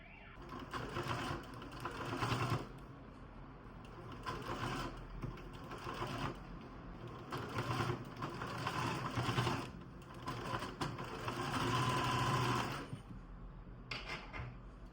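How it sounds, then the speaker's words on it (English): A sewing machine stitches fabric with a 1 cm seam allowance and backstitching, in several short bursts, its rapid mechanical whir starting and stopping with brief pauses between runs. "stitch on your sewing machine with a 1 cm seam allowance"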